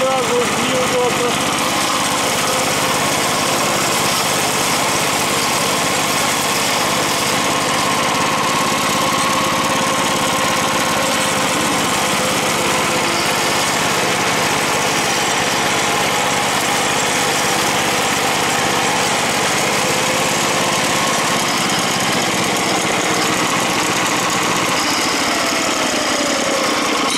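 Zarya rotary mower engine running steadily at close range for nearly the whole stretch, a continuous buzzing drone with a faint voice underneath, cutting out near the end.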